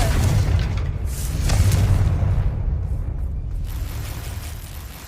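The Confringo fire-blast spell in the video game Hogwarts Legacy goes off as a loud, deep boom, followed by a rumbling explosion that slowly fades.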